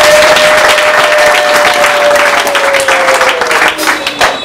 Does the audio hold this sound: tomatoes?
no